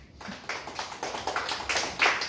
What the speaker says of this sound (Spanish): Dale palmas a Jesús bien fuerte